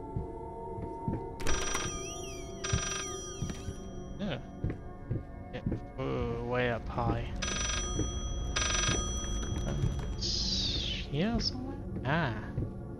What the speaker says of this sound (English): Phone's getting louder.